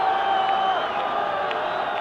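An excited crowd at a 1968 Argentina second XV versus Wales rugby match cheers steadily, with sharp whistles and whoops poking through the constant roar.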